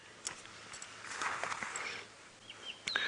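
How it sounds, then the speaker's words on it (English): Wild birds calling in the African bush at sunset, scattered faint chirps and short calls at a distance with a few footstep-like knocks, quiet and sparse. "there is a bird party around here that we're listening to"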